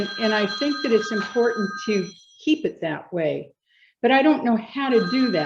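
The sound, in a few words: phone ringing during a public meeting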